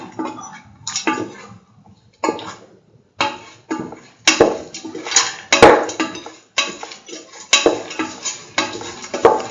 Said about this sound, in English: Mix the lentil thoroughly with the rest of the mixture.